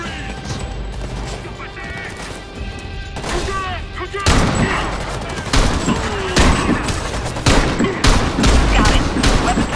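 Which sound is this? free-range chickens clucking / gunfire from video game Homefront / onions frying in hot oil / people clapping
gunfire from video game Homefront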